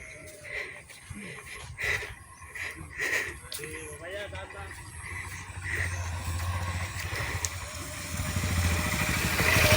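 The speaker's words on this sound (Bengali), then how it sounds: "মোটর সাইকেল দেখতে পেলাম," A motorcycle engine drones in the hilly Bandarban countryside, faint at first and then building into a steady, slightly louder hum toward the end, with voices talking over it.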